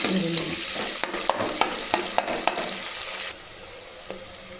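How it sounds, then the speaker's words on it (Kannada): Onions frying in a pan for vangi bath, a steady sizzle broken by a regular series of sharp spatula scrapes and taps as they are stirred, then a quieter fry alone. "ಈರುಳ್ಳಿ ಫ್ರೈ ಆಗಿದೆ."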